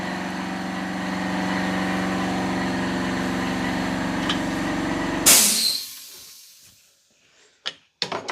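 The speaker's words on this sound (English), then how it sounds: "Sorry about the compressor, it is in here with us, so it's a little bit noisy." An air compressor runs inside a car fabrication workshop where a Ford Mk2 Fiesta XR2 rallycross car is being built. It gives a loud, steady droning hum, then cuts off with a sharp hiss of air and fades to near silence, followed by a few faint clicks.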